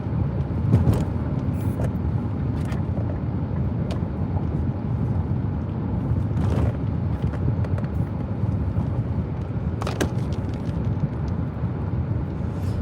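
A car drives along a road, heard from inside as a steady low rumble of engine and tyres with some wind buffeting and a few brief knocks, continuous and fairly loud.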